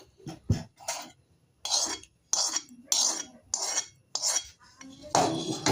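Spoon stirring mushroom curry in a metal vessel, giving a series of about eight loud, close scraping and clinking strokes separated by short pauses, with no talk.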